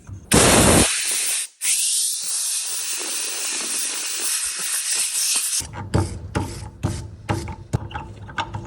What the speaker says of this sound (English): I'm going to give this a blowout with the airline